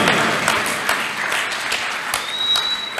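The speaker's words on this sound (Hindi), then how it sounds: "भरपूर तालियां चाहिए मुझे अपनी माताओं बहनों से" Audience applause at a Hindi kavi sammelan poetry event, a dense steady wash of many clapping hands sustained throughout, with a faint thin tone rising near the end.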